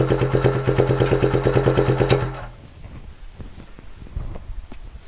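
Yamaha Scorpio Z 225 engine in a traditional custom chopper chugging with a quick, even pulsing beat up close, then abruptly cutting out and leaving only faint clicks and background noise.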